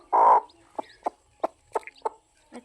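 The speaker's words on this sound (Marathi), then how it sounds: "ही लाल कोंबडी बघा पिल्ल्यासनी सांभाळून अंडी घालून परत त्या कुडूकून रवणीवर बसले" A red farm hen sitting on a nest of hatching chicks gives one loud close squawk, then a string of soft, evenly spaced low clucks.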